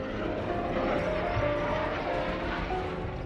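Military aircraft in a flypast over Rajpath in Delhi produce a continuous, loud jet roar with a broad, rushing wash of noise that holds steady without a break.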